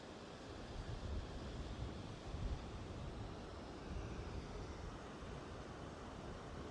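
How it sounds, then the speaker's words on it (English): A waterfall at Tallulah Gorge State Park rumbles as a constant, broad wash of rushing water heard from an overlook. It stays steady and moderately distant, with slight swells and no talking. "a waterfall."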